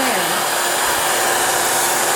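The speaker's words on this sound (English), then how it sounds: "Move the blow dryer around." A blow dryer runs steadily and loudly, heating and shrinking plastic wrap around a holiday gift basket, a constant broadband whoosh with a brief low pitch shift at the start.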